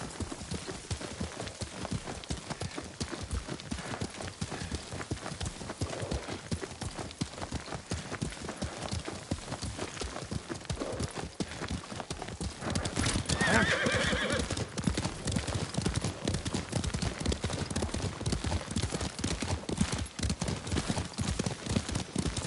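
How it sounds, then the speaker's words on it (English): Steady rhythmic hoofbeats of a galloping horse in the video game Ghost of Tsushima run throughout, with a whinny partway through and a faint ambient backdrop. "Lord Sakai taught me to ride a horse"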